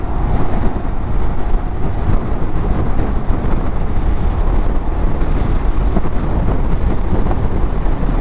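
Loud, constant wind roar buffeting the microphone, mixed with a low engine rumble from a Yamaha Xmax 250 scooter with a sport windshield, steady throughout with no voices.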